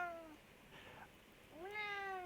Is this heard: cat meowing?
yes